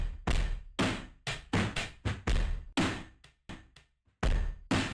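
A rock drum break slowed to half time, with stretched, ringing kick and snare hits spaced in a slower groove, sounding dry, close and loud with no voices.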